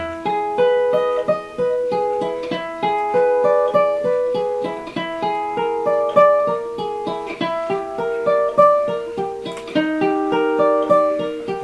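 A bowed double bass plays steady, evenly spaced seventh-chord arpeggios, each note held full length, rising and falling in a calm repeating pattern.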